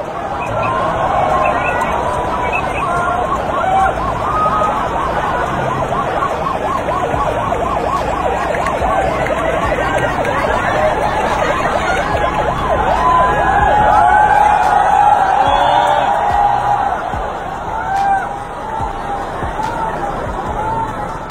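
A fire truck siren wails loudly and continuously as the engine pushes through a narrow, crowded alley on its way to a fire in Indonesia, with crowd noise underneath.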